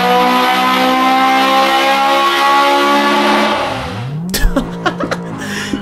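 Turbocharged Honda VTEC engine held at a loud, high-pitched rev, then dropping off into a burst of sharp pops and crackles with falling pitch; close and without voices.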